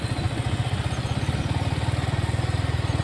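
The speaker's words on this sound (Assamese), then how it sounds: "ভিডিঅ' বনাওঁতে অটোবিলাক আহি যায়, বাইকবিলাক আহি যায়, কাৰবিলাক আহি যায়" A motorbike engine on the road throbs steadily with a rapid, even chugging pulse, close and continuous throughout with no other sounds.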